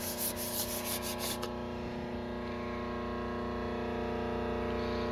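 Fine sandpaper rubbed by hand across a lapped metal milling-machine deck, checking flycutter tooling marks; a steady, close scratchy rasp runs the whole time, with brighter strokes at the very start, and no one talks.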